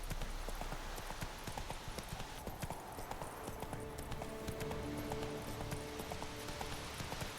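Steady clip-clop of hooves from Geralt's horse Roach trotting in The Witcher 3: Wild Hunt on PS4, continuous rhythmic footfalls with an occasional whinny amid game ambience.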